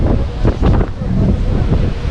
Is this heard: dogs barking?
no